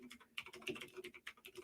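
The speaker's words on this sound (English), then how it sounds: "I'm going to type in really fast into my I was typing www as I said that into my chat here." Rapid typing on a computer keyboard, a quick burst of close key clicks in an uneven rhythm, fairly quiet with no voice.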